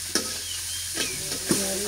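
Tomato tipped into a curry frying in a pan gives a steady close sizzle, with a few soft clacks of stirring spaced through the short stretch.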